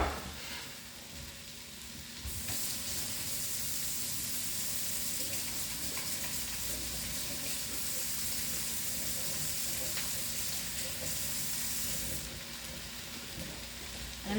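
Food sizzles and fries steadily in a pan for about ten seconds after part of a package of ingredients is added, a dense, even crackle with no voices over it.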